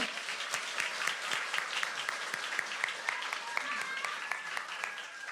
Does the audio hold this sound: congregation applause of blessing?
yes